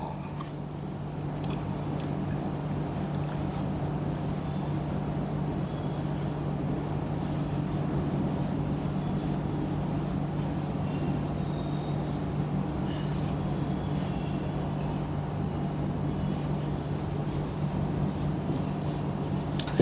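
A chemistry formula being written out by hand, a continuous close scratching and rubbing of the writing tool over a low steady hum, with no speech.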